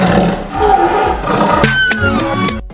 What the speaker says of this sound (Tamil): உருமும்.